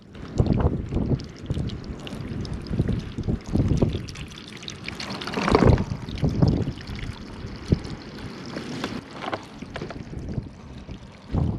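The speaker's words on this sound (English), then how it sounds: "I can hear the water trickling down this pipe." Water from a newly dropped well trickles and rushes down a pipe outdoors, heard as irregular splashy pouring with gusts of wind buffeting the microphone, fairly close and steady with no talking.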